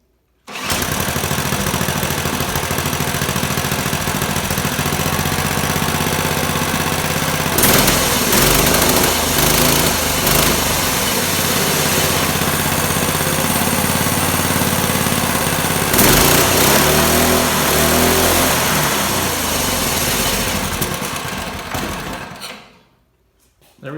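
A small go-kart engine idling, a loud, steady buzzing putter with a rough, even rhythm that holds close and constant before cutting off at the end.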